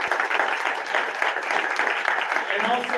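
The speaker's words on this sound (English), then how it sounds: "Let's give a round of applause for Breckenridge Morgan." Audience at a Veteran's Day program applauding, a dense steady wash of clapping from many hands that holds evenly for about three seconds with no break.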